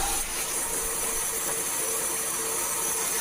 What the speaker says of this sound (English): I made this little jig here so I can cut these feet at an angle on the bandsaw